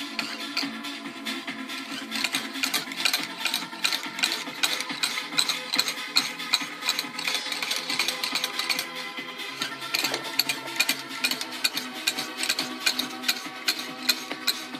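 Knife blade stroked repeatedly across a fine Lansky sharpening stone, a steady run of close, rapid scraping rasps with a rhythmic metallic edge, continuing alone without talk.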